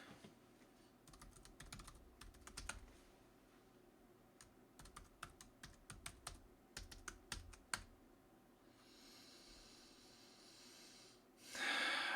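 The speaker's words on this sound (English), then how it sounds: "Such bad typing today." Quick bursts of typing on a computer keyboard, clusters of crisp keystrokes over a few seconds, faint and close, followed by a steady hiss and a louder rush at the end.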